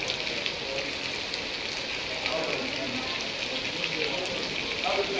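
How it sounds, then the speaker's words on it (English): Heavy rain pours down in Uyo, Akwa Ibom State, Nigeria, a dense steady hiss of drops striking surfaces, continuous and fairly loud, with faint voices murmuring underneath. "it's raining cat and mouse right here in Akwa, Ibom"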